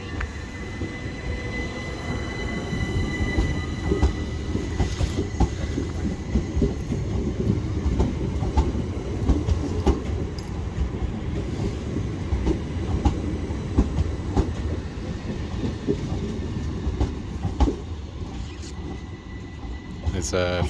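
Train pulling out of Lewes station, England, bound for Ore via Eastbourne: a continuous rumble of wheels on rails with rhythmic clicking and faint wheel squeal, moderately close, as a person talks over it.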